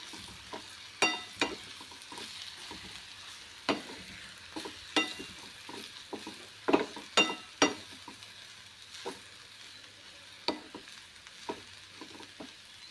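Crumbled chapati pieces sautéed in a pan, with sharp scraping and stirring clicks at irregular intervals over a quiet, steady sizzle; close and alone, no voices.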